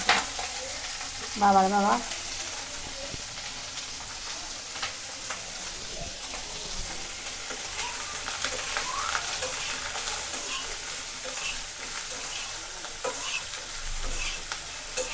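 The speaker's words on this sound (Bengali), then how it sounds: "একটু লবণ দিয়ে শুধু ভাজি করবো, আর কিছু দিব না।" Cauliflower frying in oil with a little salt gives a steady close sizzle with stirring, broken near the start by a brief voice calling out.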